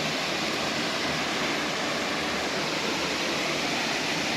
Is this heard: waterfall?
yes